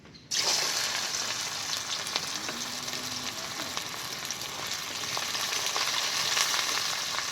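Loud, steady sizzling of chopped onions hitting hot oil for a village-style goat meat curry, starting abruptly and continuing with faint stirring scrapes.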